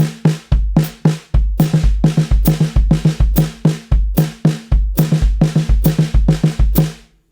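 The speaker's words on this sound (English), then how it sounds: "I'll put the time on the hi-hat." A drum kit plays a steady groove, kick and snare hits under a running hi-hat pulse, close and loud, stopping near the end.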